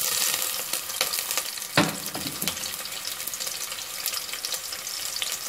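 Onions sizzle and fry in hot cooking oil, with a steady crackling hiss throughout, a sharper burst as they hit the pan, and occasional stirring clatter.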